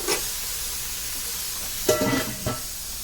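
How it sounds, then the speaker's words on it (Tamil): Onions frying for a Tenkasi-style mutton biryani give a steady, soft sizzling hiss, with a few louder stirring scrapes near the end. "இன்னும் வதங்கணும் வெங்காயம்."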